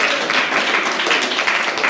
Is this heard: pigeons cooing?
no